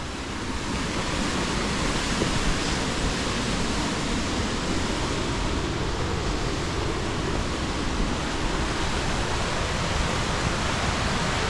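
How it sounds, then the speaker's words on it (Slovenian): Barman waterfall roaring in a rocky gorge, a loud, steady broadband rush of falling water that holds unbroken for the whole stretch with no voices over it. "Ogromen slap."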